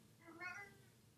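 A cat meows indoors, a single drawn-out call rising and falling over about a second, close and fairly quiet against low room noise.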